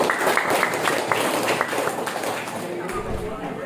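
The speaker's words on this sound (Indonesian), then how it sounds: "Tepuk tangan untuk BPD." Hands clap in scattered bursts during a village council deliberation meeting in Temiyangsari, strongest in the first half and fading as a voice carries on over a murmuring hall.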